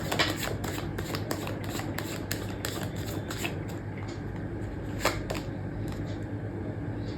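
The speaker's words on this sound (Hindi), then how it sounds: "जब तक मैं कार्ड शफल कर रही हूँ" Tarot cards shuffled by hand, a steady run of quick riffling flicks with a few sharper snaps, close and alone without talk.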